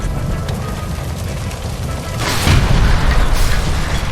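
In the L.A. Noire video game, a shot gas line near a stove explodes: a heavy rumbling boom rises sharply midway and rolls on loudly to the end over a continuous low roar.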